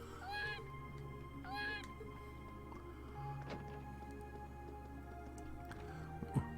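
Two short cat meows from a video game, Trails of Cold Steel, sound in quick succession near the start over quiet game music and ambient tones.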